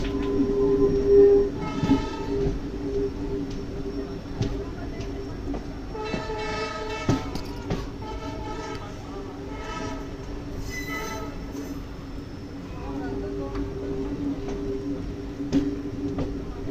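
Uttaranchal Sampark Kranti Express train pulling into Lal Kuan Junction railway station, a steady rumbling of rail cars with clanks and a sustained horn-like tone running through, fairly loud and close, no talking.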